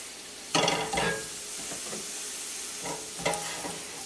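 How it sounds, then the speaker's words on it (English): Onion, garlic and fresh thyme sizzle in a hot pan, with a steady frying hiss broken by a few louder bursts as the pan is stirred, close and without talk. "I just want to sweat that down for about a minute or so."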